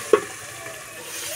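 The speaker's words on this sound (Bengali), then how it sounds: "এই জলেই শসা সিদ্ধ হয়ে যাবে।" Cucumber simmers in its own released water in a pan, giving a soft, steady hiss with one brief clink near the start.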